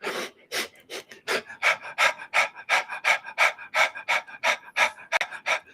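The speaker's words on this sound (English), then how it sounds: "Exhale, breath of fire." Rapid, forceful breath-of-fire exhalations in a breathing exercise, about sixteen even, huffing pulses in a steady quick rhythm, close and fairly loud with no talking.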